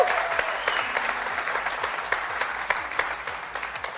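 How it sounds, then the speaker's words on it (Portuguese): A church congregation applauding during a Portuguese-language sermon, dense sustained clapping with sharp individual claps standing out, filling the room for several seconds. "Você pode aplaudir Jesus?"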